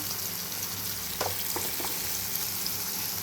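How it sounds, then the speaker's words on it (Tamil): Cinnamon, cardamom and curry leaves frying in hot oil for tempering a fish curry, a steady close sizzle with a few brief crackling pops and no talk. "பட்டை ஏலக்காய் கருவேப்பா எல்லாம் போட்டு நான் தாளிப்புக்கு போட்டிருக்கேன்"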